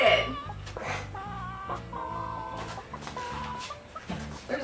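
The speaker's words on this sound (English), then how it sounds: "There's a bird in there." A chicken clucks repeatedly from inside a chicken-gram gift box, the bird calls sounding close and continuous over a steady rhythmic background, with short bursts throughout.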